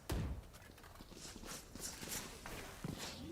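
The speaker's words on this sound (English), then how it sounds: "he hears a Neon though. Hears little footsteps." Footsteps in a tactical shooter video game, presumably Valorant, sound as quick, light, rhythmic thuds over a dense, busy game and crowd background during a collegiate LAN match.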